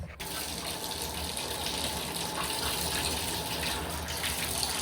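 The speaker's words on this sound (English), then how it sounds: "She needs to wash her hands." Tap water runs steadily into a sink while a young girl washes her hands at home, a continuous close gushing rush with faint talk in the background.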